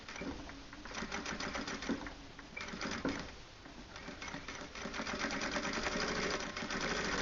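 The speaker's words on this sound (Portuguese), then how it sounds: "E passo também uma costurinha aqui de meio pezinho de máquina." A sewing machine stitches around a small denim-and-fabric phone wallet, running in steady bursts of rapid needle clatter that pause and restart, loud and close throughout.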